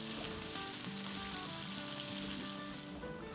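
Onions frying in a pan as the base for a Bihari masala mutton curry, a constant close sizzle with faint stirring, even and fairly quiet throughout, no voices.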